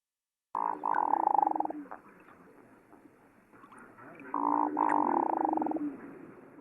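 A male hooded merganser gives its low, rolling, frog-like courtship call twice, each a loud, drawn-out purring burr lasting about a second, separated by a quieter gap.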